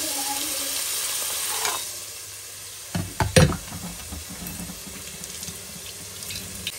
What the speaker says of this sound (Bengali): টমেটোগুলো দিয়েও ভালোভাবে ভেজে নেব।